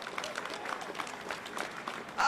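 An outdoor crowd at a Pride flag raising gives the DJ a round of applause, steady scattered clapping that swells louder at the very end.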